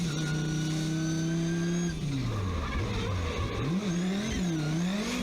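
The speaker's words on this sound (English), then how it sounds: "now Dean Kearney, he has a V10. I mean, that is a torque monster" A V10 drift car engine revving hard, a loud, sustained high-pitched roar that drops sharply, then climbs and wavers again through repeated throttle blips, close and continuous throughout.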